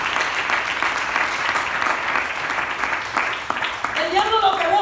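A church congregation claps for the Lord during a sermon, sustained applause filling the room, fading as a voice begins speaking near the end.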